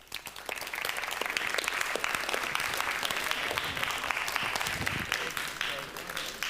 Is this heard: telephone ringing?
no